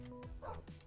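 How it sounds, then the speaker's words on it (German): Dogs in the video game Minecraft give a few short yips and barks in quick succession, close and fairly quiet, over a soft game background. "endlich habe ich Hunde gefunden"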